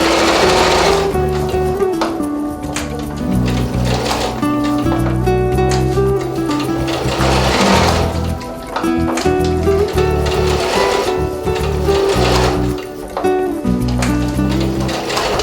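Sewing machine stitching fleece pieces for kitten toys, a loud continuous mechanical whir with shifting pitch and brief pauses as the fabric is turned, with music playing behind it.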